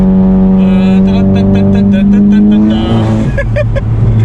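A 350 HP MK7 GTI engine rises in pitch as it revs under hard acceleration, a loud climbing drone that steps down and climbs again, with someone talking over it.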